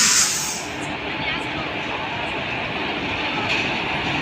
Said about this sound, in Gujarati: એ ટ્રેનનું એન્જિન જાય છે આમ.